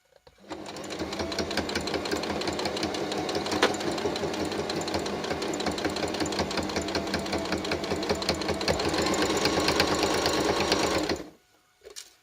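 A sewing machine stitches through rubber hand grips for a disability walker, a steady rapid mechanical whirring and needle clatter running continuously for about ten seconds before stopping, with a faint voice near the end.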